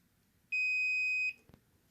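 A multimeter gives one clear, steady electronic continuity beep, lasting under a second, while the wiring connector pins of a 2000 Ford Explorer PATS security module are being tested. A soft click follows the beep in a quiet room.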